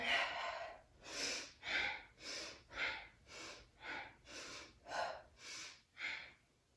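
Slow, rhythmic nasal breathing during a vinyasa yoga practice, about a dozen close, audible inhales and exhales in a steady cycle, each rising and fading with nothing else heard.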